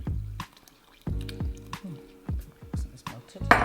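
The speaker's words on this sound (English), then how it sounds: "Pour the milk and butter into the middle." Melted milk and butter spill into a well of plain flour for flatbread dough, a run of wet drips and squishy splats in irregular bursts, close and fairly soft.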